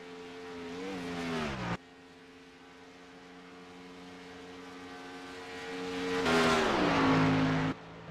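Vintage Grand National stock cars racing on a track, engines droning at steady pitch, then one car roars nearer and louder before its pitch drops as it passes, with abrupt cuts in between.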